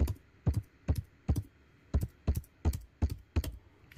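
Password being typed on a computer keyboard: about ten crisp, evenly spaced keystrokes, close and clear in a quiet room, with no talking.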